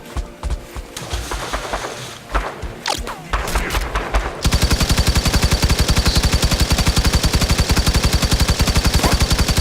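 Gunfire rings out in the Firefall video game, first as scattered single shots and short bursts, then as a loud, sustained stream of rapid automatic fire with evenly spaced, close rounds.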